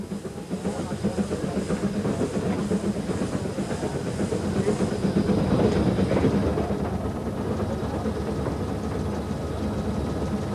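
A steam rack railway train on the narrow-gauge Brünig line, which uses the ABT rack system, rumbles and clatters steadily and loudly close by, its heavy rolling noise continuous throughout.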